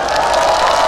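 A concert crowd at the 2024 Incheon Totoro Party special concert cheers and claps for singer Kim Soo-chan. The sound is a loud, sustained wash of shouting with clapping underneath.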